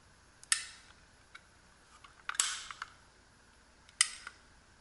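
A Kobalt 2-inch ratcheting PVC pipe cutter bites through PVC pipe in a few sharp, crisp clicks and snaps, spaced apart over a quiet background, close and fairly faint.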